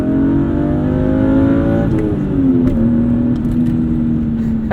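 A BMW E36 with an aftermarket intake manifold pulling hard toward redline, passing 6,000 RPM. The loud engine note climbs in pitch in steps as it revs, close and continuous, with no talking.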